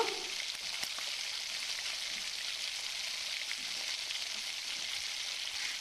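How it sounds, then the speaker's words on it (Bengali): Cumin, coriander, curry leaves and chili flakes fry in a pan with a steady, close sizzle that holds evenly throughout, with no talking. "এই সব কিছু দিয়ে এবার খুব ভালোভাবে আমি একটু নাড়িয়ে চাড়িয়ে ভেজে নেব"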